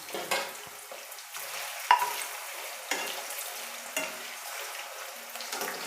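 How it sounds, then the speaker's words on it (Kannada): Potatoes fry in oil in a pan where bitter gourd was just fried, a soft continuous sizzle broken by repeated scraping stirs about once a second. "ಈಗ ನಾನು ಆಲೂಗಡ್ಡೆನ ಸೇರಿಸ್ತಾ ಇದ್ದೀನಿ ಎಣ್ಣೆಗೆ. ಇದನ್ನು ಹಂಗೆ ಎಣ್ಣೆಯಲ್ಲೇ ಕರಿಬೇಕು."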